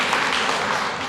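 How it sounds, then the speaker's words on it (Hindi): Brief burst of audience applause at a Buddhist vihara gathering, a dense, even wash of clapping throughout. "जोरदार ताली।"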